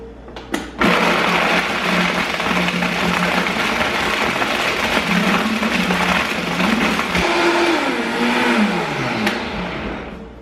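A countertop blender whirs steadily while blending a plant-based smoothie, a loud continuous motor drone whose pitch shifts slightly as the contents churn, with no talking.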